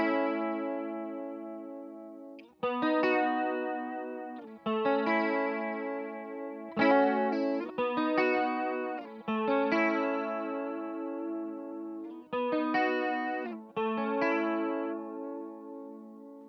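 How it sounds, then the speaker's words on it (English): Electric guitar played through a Walrus Audio Julia V2 pedal set between chorus and vibe, sounding as sustained strummed chords with a wavering, shimmering modulation. Several chords ring out in turn, each left to decay before the next. "So I have it set somewhere between a chorus and a vibes"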